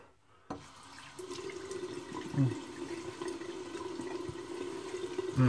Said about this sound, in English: I'm going to rinse my face off.